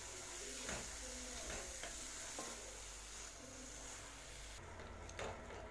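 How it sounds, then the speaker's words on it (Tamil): Tomatoes for rasam sauté in a pan, a faint low sizzle with a few soft stirring scrapes, quiet and distant-sounding under steady background noise, no talk. "இந்த தக்காளியை நல்லா வதக்கி விடுங்க."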